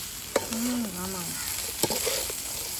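Dried anchovies frying in a pan on a stove, a soft continuous sizzle with a couple of sharp stirring knocks.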